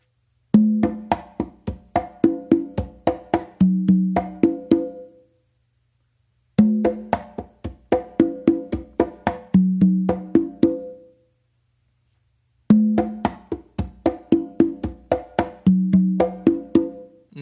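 Hand drums play a repeating conga tumbao pattern in three phrases separated by short pauses, with open resonant tones and sharp slaps, close and clear.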